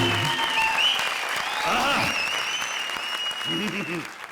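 An audience on a Comedy Circus qawwali stage applauds two performers, a broad wash of clapping mixed with a sustained musical tone and faint voices, brief sung or spoken phrases surfacing under the crowd noise.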